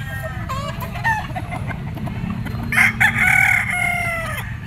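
A white Kelso gamefowl rooster crows loudly and close by, with a drawn-out call rising and falling over a busy background of other clucking and crowing fowl at a pet market.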